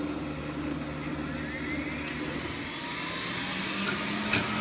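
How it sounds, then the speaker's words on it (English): A Numatic TTB4045 scrubber dryer runs its vacuum motor with a steady, close whining drone and low mechanical hum, holding constant throughout with a faint click near the end and no talking. "This button will turn off your vacuum, turn back on the vacuum, and then this is to put down your water."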